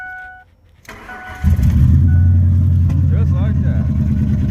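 A repaired truck engine cranks, catches and settles into a steady, loud, close idle after a brief quiet moment, with someone speaking over the running motor.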